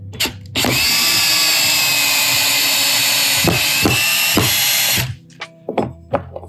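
A power drill drives screws while installing staircase hardware: one loud, steady whine lasting several seconds at close range, then a few sharp knocks and clicks as it stops.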